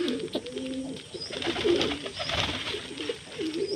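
Domestic pigeons coo repeatedly while pecking at grain feed, a cluster of soft, rolling calls close by over a light background hiss.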